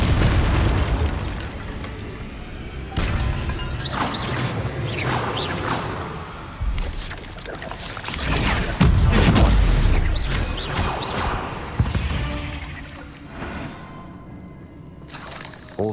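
A Bombarda spell blasts in Hogwarts Legacy amid a string of other cast spells, with several loud booming explosions, bursts and whooshes over rumbling low ends across a busy, continuous battle soundscape.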